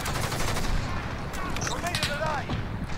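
Rapid bursts of Grau 5.56 rifle fire in a first-person shooter video game crackle continuously in loud, dense volleys, with faint game sounds mixed in.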